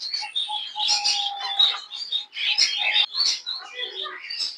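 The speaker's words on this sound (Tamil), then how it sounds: "இது ஒரு வகையான குருவியா இருக்கு. ஒவ்வொரு அடுக்குலையும் ஒவ்வொரு விதமான குருவியா இருக்கு." Many small caged birds, including sparrows, chirp and tweet busily at a bird shop in a Malaysian market bazaar, bright overlapping calls, close and continuous.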